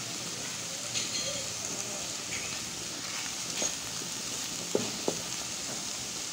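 Water spinach (kolmi shak) stir-fries in a pan with a steady, close sizzle and a few spatula scrapes and taps breaking through.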